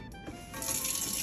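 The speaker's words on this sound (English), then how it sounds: "I'm going to put some water" Water runs from a kitchen tap for cooking, a steady hissing stream that swells and continues to the end after a few soft clunks, near and moderately loud, with no talking.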